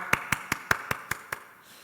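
A small group of worshippers at an infants' church service claps in thanks, seven evenly spaced sharp claps in a steady rhythm, fairly faint and close, then silence.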